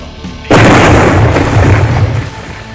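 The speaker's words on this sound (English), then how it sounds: "Firing main cannon." A tank's main cannon fires in a video game, a sudden loud boom followed by a long rumbling explosion that slowly fades, with no talk over it.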